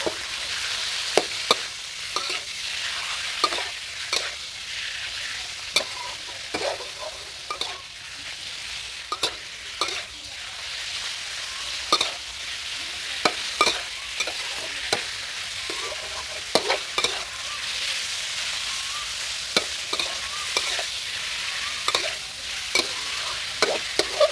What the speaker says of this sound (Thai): พอกระเทียมเหลืองหอมแล้วก็ใส่เนื้อหมูลงไปได้เลยครับ